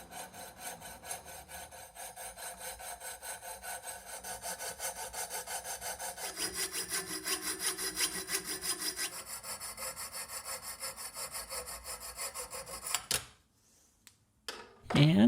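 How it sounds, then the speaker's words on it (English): Fret saw cutting freehand through a small metal pipe for a model boiler smoke box, a steady close rasping stroke rhythm running for about thirteen seconds before stopping, followed by brief handling noise. "I'm going to use the fret saw again"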